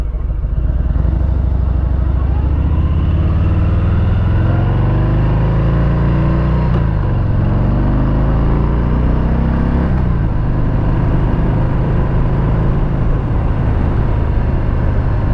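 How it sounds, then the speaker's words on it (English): A Harley-Davidson Deluxe with a Milwaukee-Eight engine and factory exhaust runs loud and close, a deep continuous rumble with a couple of revs that rise and fall, and no voices. "the Milwaukee 8 motor sounds much better off the showroom floor than the twin cam did with factory exhaust"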